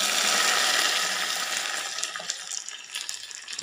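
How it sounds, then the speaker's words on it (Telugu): Lentil cooking water poured into a sizzling hot tempering for a tamarind curry, a loud hissing splash that gradually settles into quieter bubbling and crackle. "ఇప్పుడు తాలింపులో ఈ వాటర్ అంతా వంపేసుకుందాం."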